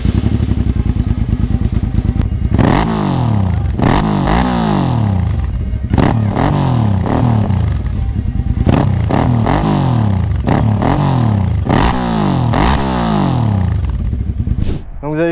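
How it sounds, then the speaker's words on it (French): A Suzuki SV650S V-twin with a homemade, baffle-free exhaust revs hard again and again, loud and close, each rev rising and falling in a raw, rumbling bark with no talk. "je vais vous faire écouter le bruit de la moto."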